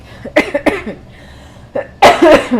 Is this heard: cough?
yes